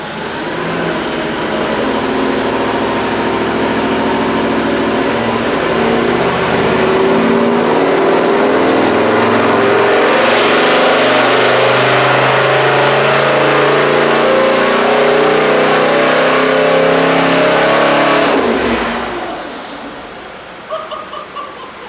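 A stroked V8 Landcruiser engine running under turbo boost, revving hard and loud for nearly twenty seconds with a rising whine before dropping off abruptly into quieter idle.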